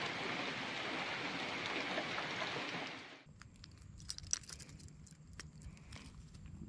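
Steady rain hisses down during wild fishing at Danau Paku lake, a dense close patter for about three seconds before dropping away to quieter scattered drips and ticks.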